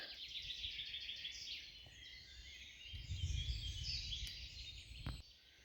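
Birds sing in a forest reserve of old pines, oaks, ash and ivy-covered alders, a dense faint chorus of overlapping chirps and trills over a low steady rumble.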